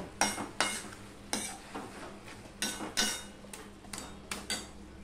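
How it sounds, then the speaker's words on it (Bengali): Saag greens stirred in a pan to cook off their water, a spoon scraping the metal in repeated near strokes with faint frying beneath, no voice. "এভাবে পুরো ঘেঁটে নেব, ঘেঁটে একেবারে জলটা শুকিয়ে নেব।"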